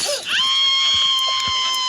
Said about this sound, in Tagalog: Grabe naman yung sumigaw si Grandma